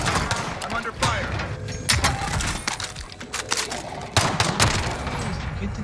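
Gunfire in Call of Duty Warzone on Rebirth Island, with dense automatic rifle bursts and sharp shots in a near-continuous barrage, mixed with other game effects.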